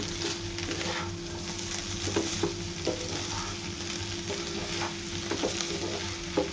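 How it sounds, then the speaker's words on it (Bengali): A vegetable dish stirs in hot oil in a pan, with a continuous sizzle and soft, repeated scraping strokes throughout. "এখানে উপরে কিছুটা তেল দিয়ে দিব, সাইড দিয়ে একটু লাড়া দিয়ে দিব"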